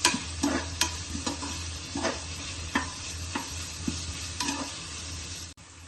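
Onions sizzle in a pan for cauliflower kurma while a spoon stirs and scrapes them, a steady frying hiss under repeated, irregular clinks and scrapes, close and clear, ending abruptly.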